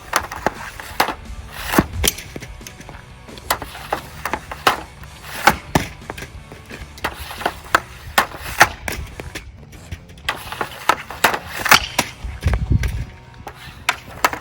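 Ice hockey pucks are struck by sticks in a series of sharp, loud slap-shot cracks and wooden thwacks, spaced irregularly over a rink's background hum, with no clear speech.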